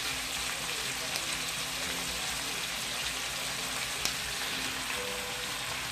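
Cabbage going into a pan of frying sausage, onions and peppers, giving a steady, even sizzle and hiss like light rain, moderately loud and continuous with no talk.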